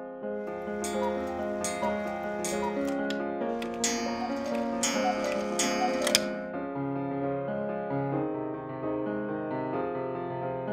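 A modern designed cuckoo clock ticks in steady even beats under loud, continuous background music that fades near the end, with no talking.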